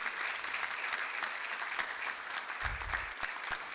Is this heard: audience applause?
yes